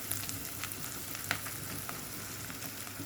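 Meat and zucchini fry in tomato sauce in a pot, giving a steady, dense sizzle with faint bubbling and a few light clicks of stirring, close by and without any talking.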